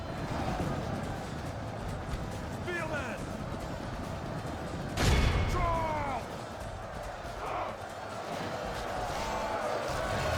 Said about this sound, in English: the cannons should chop their way through them